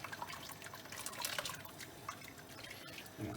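Water trickles and drips as cooked lasagna sheets are strained in a kitchen, a quiet, uneven patter of drops.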